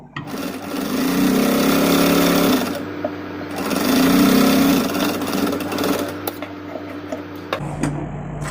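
Sewing machine stitching a blouse seam, two sustained bursts of fast, buzzing needle chatter close by, separated by a short pause, then quieter clicks and handling sounds as it stops.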